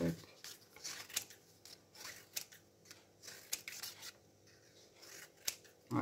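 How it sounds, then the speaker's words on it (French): Small scissors snip paper flowers roughly for a handmade card, giving quiet, irregular clips and rubbing scrapes close by, spaced apart with short pauses and a brief voice at the very end. "je vais venir découper déjà mes fleurs là"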